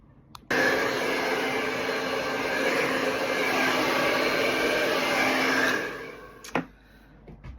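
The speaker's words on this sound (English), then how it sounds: "And then I'm going to dry my hair." A hair dryer drying hair runs loud and close with a steady whooshing blow for about five seconds, then switches off with a click and a little clatter.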